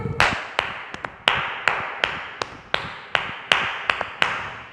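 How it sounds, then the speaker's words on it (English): Children in a classroom clap their hands in a steady rhythm, about a dozen sharp distinct claps over several seconds, loud and close with no talking. "come on, clap your hands"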